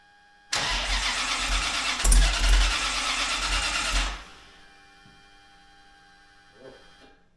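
A 5.3-liter LS V8 in a sand rail cranks and roars to life loudly, revs for a few seconds, then drops to a low, rumbling idle with faint clicks afterward.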